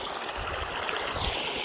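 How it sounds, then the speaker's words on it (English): A mountain stream in Sweden flows in a steady, broad rushing wash of water, close and continuous, with no voices. "In these mountain areas of Sweden, it's pretty much completely okay to drink water from these streams"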